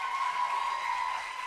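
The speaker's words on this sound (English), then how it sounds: "gets good applause from the Cardinal faithful here" Home crowd at a high school girls' varsity swim and dive meet applauds after a back one somersault tuck dive, a steady, dense clapping that stays loud and even throughout with no pauses.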